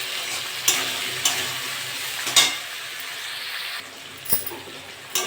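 Ginger-garlic paste fries in a pan with a steady sizzle while a spoon stirs it in a few sharp scrapes spaced through the clip, close and moderately loud, with no talking.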